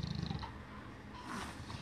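Lion at The CARE Foundation in Florida purring close up, a low rumbling purr in uneven breathy bursts that stays fairly quiet, with no talking.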